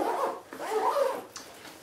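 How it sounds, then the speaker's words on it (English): Zipper being drawn closed on the main compartment of a Patagonia Transport 26L backpack, a close rasping run of about a second, then a short pause and a brief final tug. "let me go ahead and zip up this main compartment"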